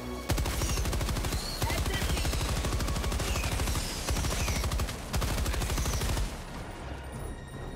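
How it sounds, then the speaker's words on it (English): Heavy gunfire in the video game Helldivers 2, where a double-barreled shotgun is in use: loud, dense bursts of shots repeat rapidly for about six seconds, then cut off abruptly. "Oh, hold on, I have a double barreled shotgun."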